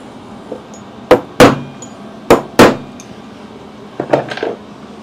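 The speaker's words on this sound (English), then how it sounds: "I'm just going to put some little pop marks on to make sure I put it on the right side" Hammer striking a metal punch to make small pop marks on a cast engine part in a workshop: four sharp, loud metallic blows in two quick pairs, then a cluster of lighter taps.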